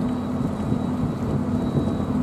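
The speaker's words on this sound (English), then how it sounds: "And the rain is beating down." Dense, steady downpour hissing continuously at a dock in Belfast, Northern Ireland, with a deep low rumble underneath and no voices.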